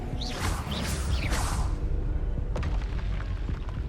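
Spells cast in the Hogwarts Legacy video game, including Expelliarmus, give a series of swooshing magical whooshes with rising tones, then a booming impact and crackling bursts, loud and close with no talk.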